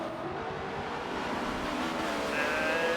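NASCAR trucks from a racing video game roar together at Watkins Glen, a steady, dense engine drone as the pack runs three wide under braking, with a faint higher whine building near the end.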